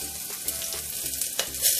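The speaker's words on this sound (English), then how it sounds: "Fry a little bit for 2 minutes." Peanuts and cashew nuts frying in a pan with mustard seeds and green and red pepper, a steady close oily sizzle with light crackles and stirring scrapes, no talk.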